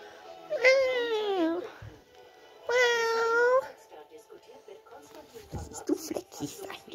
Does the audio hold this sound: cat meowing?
yes